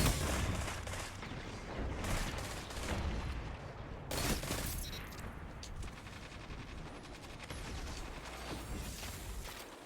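Rapid pulse rifle gunfire in Destiny 2 crackles in dense repeated bursts, loud and close, with explosive game effects layered throughout and no pause in the shooting.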